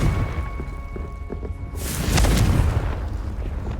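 Confringo fire spell in Hogwarts Legacy: after a short quiet stretch, a sudden booming blast with a rushing whoosh erupts and lingers as a rumbling tail to the end.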